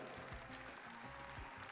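Applause from a live audience at the Moroccan international final of Ma thèse en 180 secondes in Rabat, greeting the first jury prize; faint, distant clapping with low murmurs mixed in.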